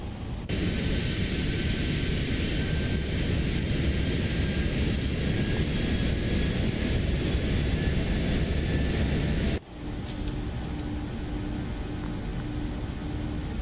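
Boeing 737-800 jet engines in a flight simulator game roar as a steady, loud broadband drone, then drop abruptly to a quieter, thinner hum with a faint tone near the end, no talking.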